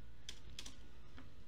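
Keys on a computer keyboard tapped in a short burst of a few quick clicks at close range, quiet and alone with no talk, during a live Python programming lesson.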